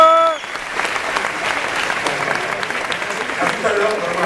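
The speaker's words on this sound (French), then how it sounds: "On applaudit bien fort." An audience applauds loudly and steadily at the Bal des quenelles 2013 event, dense clapping that starts after a brief opening note and carries on without pause to the end.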